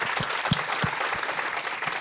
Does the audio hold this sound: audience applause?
yes